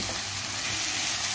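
Ginger garlic paste frying in a pan, giving a steady, close sizzle with faint stirring throughout, no voices present.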